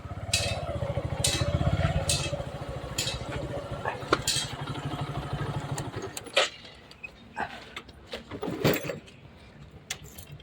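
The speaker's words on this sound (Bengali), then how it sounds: "দাঁড়ান বাইকটা সাইড করি" A motorcycle engine idles and rumbles steadily at close range for about six seconds, then cuts out, leaving street noise and scattered knocks with people talking nearby.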